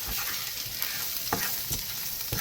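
A spoon stirs sautéed potatoes with store-bought bacon bits and seasoning in a hot pan, with a steady sizzle and a few distinct scraping strokes against the pan, close and alone.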